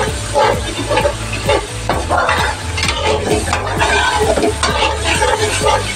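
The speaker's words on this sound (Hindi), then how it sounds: "और इसे भी हम अच्छे से फ्राई करेंगे।" Chicken green karahi fries in a pan while a utensil stirs it in quick, repeated scraping strokes over a loud, close, continuous sizzle, with occasional metallic clinks.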